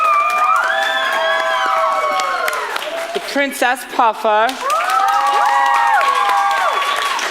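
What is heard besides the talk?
audience applause and cheering for cast members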